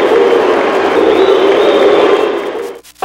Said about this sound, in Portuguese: Mas vaias apenas quando o juiz apitou o fim do primeiro tempo.